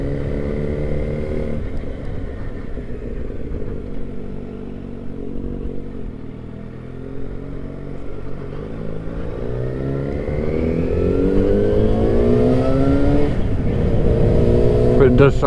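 A 2010 Yamaha FZ1N litre motorcycle engine being ridden, a steady mid-range drone that swells into louder revving toward the end, with rising and falling pitch under continuous riding.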